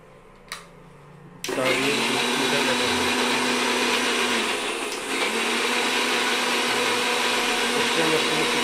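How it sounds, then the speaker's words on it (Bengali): A mixer grinder kicks on in a home kitchen during the cooking of a chicken dish: after a brief quiet moment it starts abruptly and runs as a loud, steady, whining roar until the end. "মিক্সচার মেশিন শুরু হচ্ছে এইবার।"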